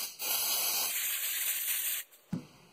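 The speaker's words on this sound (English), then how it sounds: "I'm just going to spray it down" A steady hissing spray from an aerosol can onto a 2004 Pontiac Grand Prix rear brake line runs for about two seconds, then stops briefly before a short final burst.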